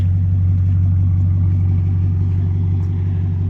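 A BMW 540i engine idles steadily with a deep, even exhaust rumble after a water pump replacement, close and continuous with no voices.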